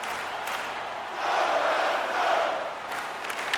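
Hockey arena crowd in the video game NHL 26 roars and cheers as the home Canadiens hold a lead, a broad steady swell of voices that rises in the middle and eases back, fairly loud and continuous.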